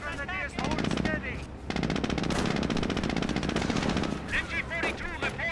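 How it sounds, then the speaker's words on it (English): Sustained bursts of rapid machine gun fire from an MG-42 in a World War II style video game, loud and continuous with short pauses, with voices shouting in between. "Incoming gunfire!"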